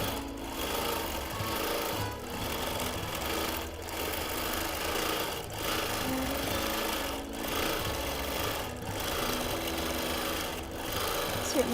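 A quilting machine hums continuously while stitching feathers on a quilt, a steady mechanical drone broken by brief regular dips as it changes direction, with no talking.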